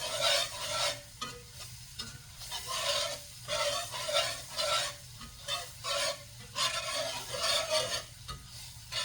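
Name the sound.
stirring homemade gravy in a pan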